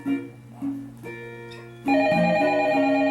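Telephone ringing in a room during a 1994 Houston blues program, a few short tonal rings early on, then a louder sustained ringing tone, heard alone without talk.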